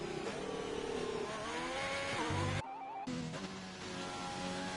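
Racing car engine from a Formula 1 style racing video game on an out lap, not using ERS, droning and revving steadily with shifting pitch, close and loud, briefly dropping out for a moment before resuming.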